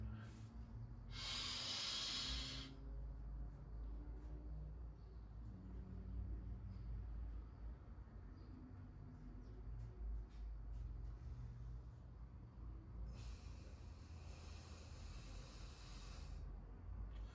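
Breath work practice: a quick, hissy inhale near the start, then a long, even breath much later, each close and airy over a low steady room hum.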